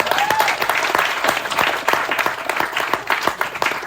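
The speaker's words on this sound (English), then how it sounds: "Let's give you a round of applause." A festival audience breaks into dense, sustained applause, many hands clapping together at a steady loud level throughout, with crowd noise mixed in.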